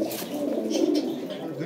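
Hungarian Budapest high-flyer pigeons coo in soft, low, continuous murmurs close by, with a faint voice-like hum mixed in and no clear speech.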